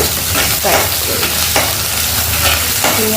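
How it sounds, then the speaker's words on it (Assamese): Fried rice with carrots and beans is stir-fried in a pan in Assam: a loud, steady sizzle broken by repeated scraping strokes of a spatula, close up with no talk. "এতিয়া মই এইটো ফ্ৰাই কৰিম।"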